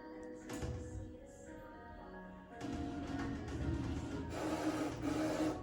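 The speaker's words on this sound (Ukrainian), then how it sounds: "Після отримання завдання принтер розпочинає друк." A DTG UV printer running with mechanical whirring and a carriage sliding back and forth, rising into steady scraping motor noise after a quieter start.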